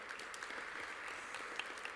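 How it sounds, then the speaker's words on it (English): Audience at a school spelling bee gives the MC a round of applause, a faint, even patter of many hands clapping throughout. "let's give him a round of applause"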